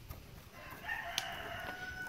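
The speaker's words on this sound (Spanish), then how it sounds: "que oigan cómo cantan nuestros gallos allá" Roosters crow in the distance on a rural property, a faint, drawn-out call over a quiet outdoor background.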